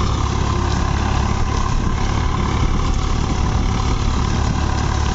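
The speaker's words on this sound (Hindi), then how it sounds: "ट्रैक्टर ही बड़े प्यार प्यार से चल रहा है जी 1500 चक्रों पे चल रहा है जी" New Holland 3630 4WD tractor engine running steadily at 1500 rpm, a loud, constant close-up diesel drone with no talking over it.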